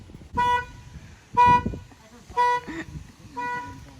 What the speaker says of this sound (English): I just set off your car alarm with my two-step.